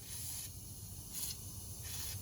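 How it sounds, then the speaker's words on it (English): Short bursts of steady hissing spray, three in a row, from a WD-40 aerosol can onto a rusted rear brake rotor of a 2010 Dodge Challenger SRT8, fairly close over a low background rumble. "I want to spray it with WD-40"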